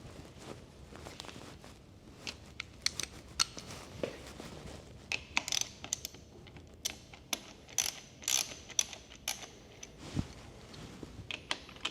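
A new bolt is tightened while an OEM hand guard is fitted to a Honda Transalp motorcycle, giving repeated close ratcheting clicks and metallic mechanical clatter in irregular bursts, with no voices.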